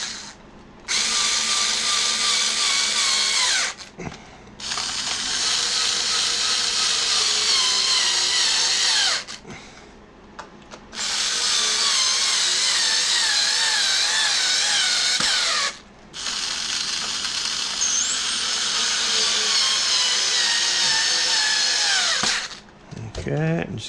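Screws are driven into a Telecaster copy guitar to reattach its neck, with four long whirring bursts of a power screwdriver separated by short pauses, each run rising and ratcheting as the screw tightens.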